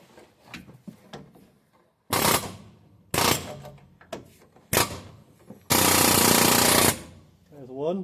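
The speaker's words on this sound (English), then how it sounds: "Time to see if the air hammer's got the balls to knock those ball joints." An air hammer rattles against the front ball joints of a Jaguar XK8/XKR under repair, firing in three short loud bursts and then one sustained second-long run, with faint clanks and shuffling in between.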